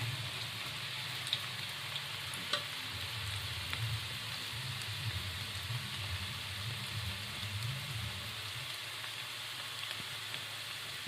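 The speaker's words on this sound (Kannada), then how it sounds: "ಎಣ್ಣೆ ಗರಮ್ ಆಗೈತ್ರಿ ಜಲ್ದಿ ತೆಗಿಬೇಕ್ರಿ" Food frying in hot oil in a home kitchen, a steady close hiss and sizzle running without break, with a low rumbling undertone and a few faint clicks.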